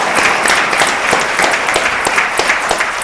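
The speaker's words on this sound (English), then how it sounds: "if I could have a big round of applause for the" Steady, loud applause from a school board meeting audience honoring the Class 4A regional champions, many hands clapping in a dense, continuous patter throughout with no speech.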